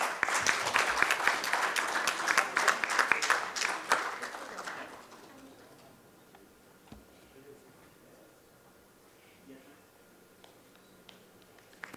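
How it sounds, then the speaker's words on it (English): An audience at a felicitation ceremony gives a dense round of applause for about five seconds, which then drops away to quiet room tone with a few faint stray claps. "Can we please have a round of applause?"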